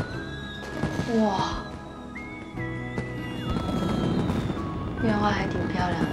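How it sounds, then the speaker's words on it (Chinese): Fireworks boom and crackle in a steady series of distant bursts under music and voices, with people talking over the display. "烟花还挺漂亮"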